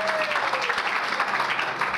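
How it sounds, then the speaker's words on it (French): A church congregation claps steadily in dense, sustained applause, fairly close and even throughout, with a few voices mixed in. "Acclamez le Seigneur."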